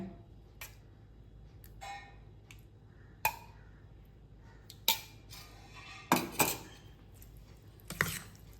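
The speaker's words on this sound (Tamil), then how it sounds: "நல்லா மிக்ஸ் பண்ணி விட்டுருங்க" Curd rice mixed with a spoon in a vessel, a few sparse metallic clinks and taps at uneven intervals over a quiet background.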